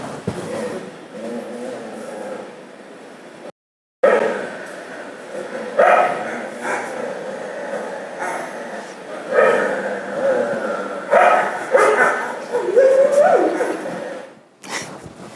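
Dogs bark and yip in a Joan Jonas video artwork, with bursts of several barks and whimpers mixed with a roomy background and a short silent gap, loud and close at times.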